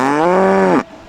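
A single loud cow moos up close on a farm, one sustained, rich, low bellow lasting under a second that cuts off abruptly.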